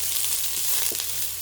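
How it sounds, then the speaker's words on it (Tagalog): Onions sautéing in a pan, giving a steady close sizzle and hiss with a few faint clicks of stirring. "Lagawin na natin tong ating sibuyas."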